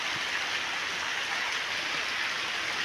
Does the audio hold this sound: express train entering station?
no